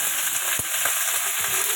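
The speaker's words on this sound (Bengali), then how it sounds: "লঙ্কা একটু ফোড়নে দেবো, ব্যাস। আর একটু কালো জিরে ফোড়ন হয়ে যাবে।" Dried chili and nigella seeds tempering in hot oil produce a short burst of dense, bright hissing sizzle with a few soft pops and a faint stir.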